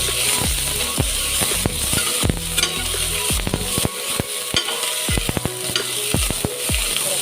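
Chopped onion frying in a pan, a steady sizzle under repeated scraping and stirring knocks of a spoon against the pan, close and continuous.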